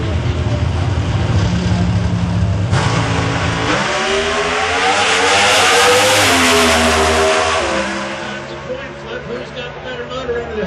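Pro Stock drag race cars at the NHRA New England Nationals in Epping, NH roar off the line, loud high-revving engines building to a peak then fading into the distance as an announcer talks over them.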